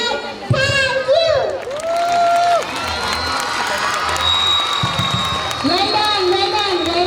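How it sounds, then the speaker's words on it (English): A loud, continuous crowd of mostly children cheers and shouts with excited whoops at a school annual day event in Hyderabad, with voices rising and falling throughout. "Please give her a big round of applause one more time."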